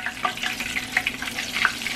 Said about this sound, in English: You see that sizzle right there? See that sizzle?